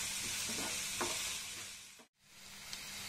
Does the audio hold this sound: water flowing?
no